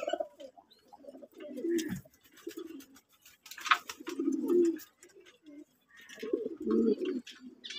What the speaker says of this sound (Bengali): হেভি একটা কবুতর